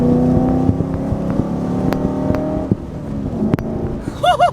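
A V8 car powers around a corner, its engine a loud, close, steady drone that eases off partway through, with a brief voice breaking in near the end.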